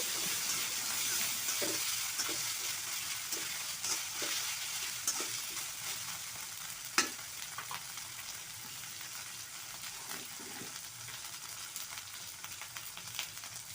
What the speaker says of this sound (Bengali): এই তো রসুন, পেঁয়াজ বাটা, আদা বাটা দিয়ে দিলাম। তারপর একটু নাড়াচাড়া করে নেব।